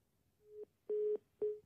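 A telephone busy tone after a call is hung up: three steady, clear beeps in a regular pulsing pattern, each lasting about a quarter second, heard alone against near silence.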